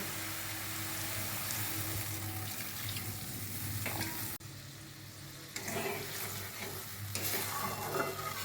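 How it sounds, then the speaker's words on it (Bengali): Water poured into a sizzling tomato masala for a tengra fish curry, a loud close sizzle and stirring that drops away abruptly, then bubbling and hissing resume, with no voices. "এবার আমি জল দেবো।"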